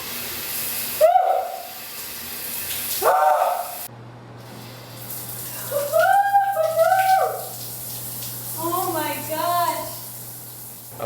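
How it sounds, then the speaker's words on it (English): A cold shower runs in an off-grid jungle bathroom, its steady hiss sitting under intermittent voices and vocal sounds. "Cold shower time."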